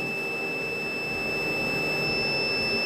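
A steady, continuous electronic inverter overload alarm tone sounds loudly and without a break, with a low hum of machinery underneath.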